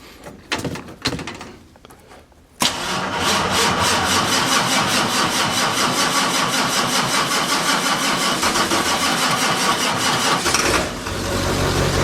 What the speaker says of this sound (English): It's only got one battery hooked up, that's why she's cranking slow.